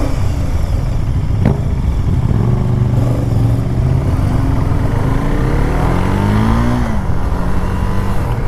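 A KTM Duke 390 motorcycle engine drones loudly while riding on the road, its pitch climbing and dropping through gear changes under heavy wind rush.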